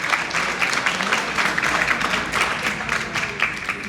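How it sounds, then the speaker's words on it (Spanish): An audience at a university lecture session on the Cauca River applauds, a steady wash of many hands clapping at moderate loudness throughout, with faint voices beneath. "De un aplauso, pues."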